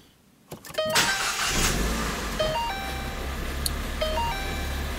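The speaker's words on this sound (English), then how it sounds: "so I'm gonna start it so we can confirm the customer's complaint" Ford Fiesta engine cranking and catching from inside the car, then settling into a steady idle, with a few soft electronic chimes from the dash over the running engine.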